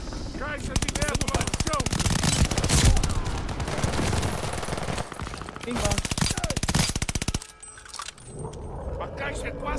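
Rapid bursts of automatic gunfire in Call of Duty: Vanguard crackle almost continuously, close and loud, with voices speaking over the shooting and a brief lull near the end.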